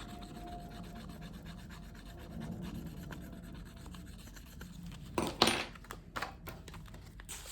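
A scratch-off lottery card being scratched: soft, quiet rasping strokes throughout, then a cluster of sharper, louder scrapes and rubs toward the end, close up and without speech.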